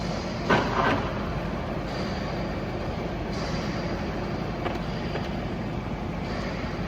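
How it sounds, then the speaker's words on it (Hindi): Table of an Italian Arno-Nomo universal milling machine, 1550 mm by 350 mm, travelling at a very high feed rate of about 390 mm per minute. The machine gives a steady, close mechanical whir and rumble throughout, with a brief louder clatter near the start. "table is still moving in feed but at a very high feed rate"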